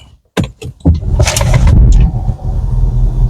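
A 2010 Audi A4 B8 engine starts with a brief crank and catches into a steady idle, preceded by a few sharp clicks and thumps, close and fairly loud.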